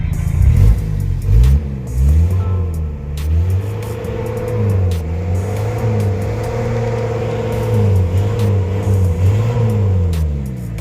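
A Toyota 2C diesel engine with hard starting and low power is revved repeatedly, its deep rumbling note climbing and falling in several close, loud swells from idle, with no talking over it.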